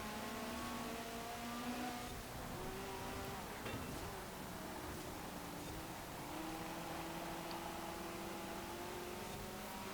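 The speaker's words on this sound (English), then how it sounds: "Yeah, got a cracking sounding V8 in this." A 1980s V8 race car engine in the Forza Horizon 4 racing game drones steadily, with its pitch rising and falling as it revs through the gears. It stays loud and close throughout the clip.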